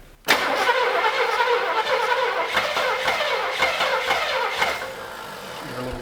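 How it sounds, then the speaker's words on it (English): A long-dormant Buick LeSabre V8 cranks and struggles to catch, firing in uneven bursts with sharp backfire pops over a rough, sputtering engine note that settles toward a faltering idle, loud and close. "When it's backfiring like that, it makes me think that the timing events aren't right."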